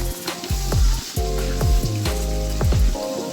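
Tomato puree stirred in a hot pan for egg lasagna: a steady sizzle under repeated, rhythmic ringing scrapes of a spoon against the pan, close and fairly loud.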